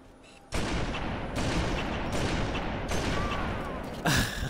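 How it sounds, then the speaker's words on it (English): Rapid gunfire from the video game Halo bursts in and continues as dense, loud shooting with short gaps, then a brief sharper burst at the end. "Shots from the other side."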